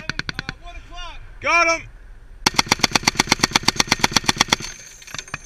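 .50 caliber machine gun firing from a mounted position during a live fire exercise, a short burst, then a long rapid string of loud evenly spaced shots, with shouted voices between bursts.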